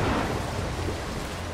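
Thunder from the Mark of the Ninja game: a loud, continuous low rumble mixed with a broad rain-like hiss, sustained and fairly close with no voices.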